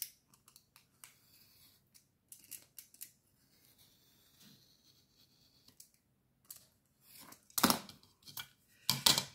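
Scissors snip through material in a few separate bursts, with a quiet gap between the early light cuts and several louder, close cuts near the end, no voices present.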